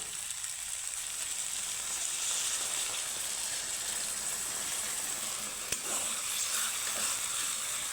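Water pouring into a pan of frying flat beans and potato for gravy, giving a steady close sizzle and hiss that holds throughout, with a faint clink partway through.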